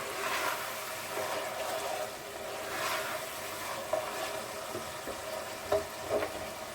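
Ground pork sizzles in a pan as it is stirred and sautéed, a steady frying hiss with a few soft scrapes and clinks of the utensil, no one speaking.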